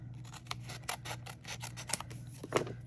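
Scissors snip through excess card paper while a greeting card is being trimmed, with a series of short, crisp cuts coming close and moderately loud and no talking.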